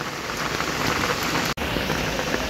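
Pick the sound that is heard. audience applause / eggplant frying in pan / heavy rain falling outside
heavy rain falling outside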